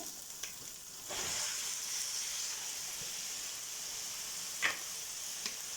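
Oil and soaked rice sizzle steadily in a pot for a dish of green beans with rice, a continuous close frying hiss that swells after a moment, with a few soft stirring clicks and no talk.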